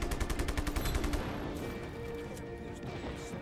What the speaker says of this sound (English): a lot of these chaos objects are pretty easy to destroy them with just bullets.